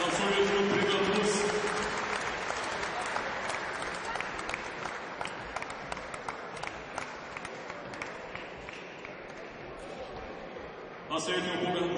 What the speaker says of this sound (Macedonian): Благодарим още веднъж аплауз за танцовия клуб Бригад Плюс.